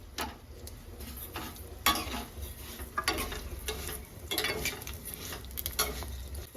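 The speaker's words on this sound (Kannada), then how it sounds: "ಇವಾಗ ಅದ್ರೊಳಗೆ ಶಾವಿಗೆ ಹಾಕೊಂಡು ಫ್ರೈ ಮಾಡ್ಕೊತೀನಿ." Vermicelli fries in ghee over a slow flame, a soft sizzle under repeated scraping stirs of a spoon against the pan, close and steady.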